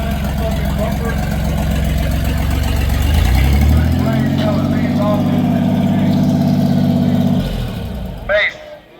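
A show car pulls up at the Midwest Supershow, its engine idling with a deep, steady rumble that swells briefly in the middle before settling, while people talk over it nearby.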